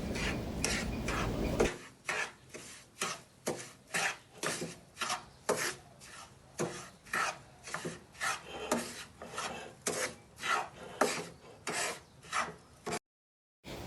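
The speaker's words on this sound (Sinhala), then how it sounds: "කලින් කුඩු කරගත් හාල් ටිකක් දාලා හොඳින් කවලම් කරගන්න ඕන" Ground rice flour being mixed in a bowl: steady, rhythmic rasping strokes, around two per second, close by with no voices.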